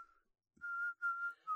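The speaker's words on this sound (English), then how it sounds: "he demonstrates his newly mastered technique of inward whistling." Inward whistling, produced by drawing breath in, gives a thin, steady high tone in several sustained notes with short breaks between them, clear and alone against silence.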